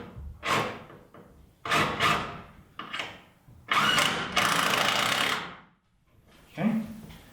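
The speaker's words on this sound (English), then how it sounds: "And I may put a screw in to the top plate on each one." Power drill driving screws into a rafter top plate while building a workshop, several short whirring bursts with pauses between, one longer sustained run, close and loud.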